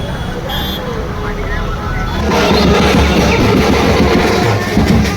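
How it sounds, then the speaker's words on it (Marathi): Dense road traffic with many vehicles, a steady engine rumble and road roar that swells louder partway through, heard from close by while people talk over it. "बघा केवढ्या गाड्या आहेत"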